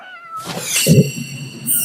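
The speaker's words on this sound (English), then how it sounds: "Oh, there's a kitty cat." A cat wandering around a TV studio lets out a single clear, drawn-out meow close by, with no one talking over it.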